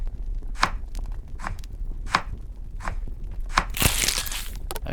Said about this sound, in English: Cut the meat